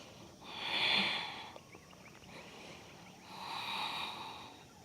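Two slow, deep breaths during a yoga hip and hamstring stretch, each a close, airy inhale-exhale swell with a quiet pause between.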